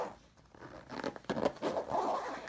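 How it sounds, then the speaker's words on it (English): A zipper drawn closed on a bag holding a CADD Solaris infusion pump, a close, continuous rasping pull with a few uneven bursts lasting a couple of seconds. "We can close this up and zip the bag."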